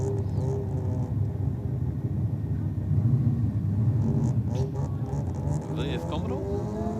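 Mazda RX-7 race car passing with a continuous low engine rumble and a rise in intensity midway, heard at moderate distance against trackside ambience, with a commentator talking over it.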